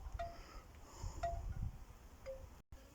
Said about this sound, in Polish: Jak zwykle wiatr.